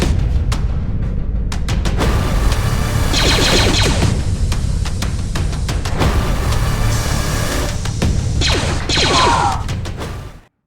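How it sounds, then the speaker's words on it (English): A Star Wars style blaster battle plays out as a dense run of loud zapping shots and whooshes, with sharp repeated bursts and sweeping tones layered over a rumbling background, ending in a quick fade. "how I made that little pew pew pew blaster battle in Filmora"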